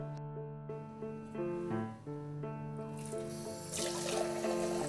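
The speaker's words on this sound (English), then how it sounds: "we remove any rings and fill a cup with water" Water poured from a cup into a sink for ritual handwashing before eating bread, a steady close stream over a sustained musical tone, swelling louder near the end.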